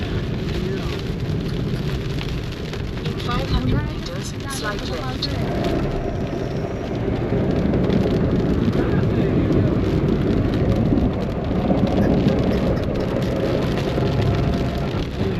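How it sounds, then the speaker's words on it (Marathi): Heavy rain with big drops hisses and drums steadily on a moving car during a long highway drive from Munnar to Goa, with engine and road noise beneath. A voice talks over it. "हा पाऊस पण बघा किती जोरात आहे आणि टिपके बघा किती मोठे आहेत"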